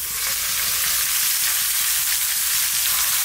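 Lamb pieces browning in a tagine for a lamb and chickpea dish, a loud, even, hissing sizzle heard up close without any talk.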